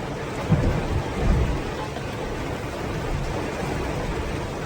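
Heavy morning rain pours in a steady, dense roar throughout, with a couple of low thumps early on.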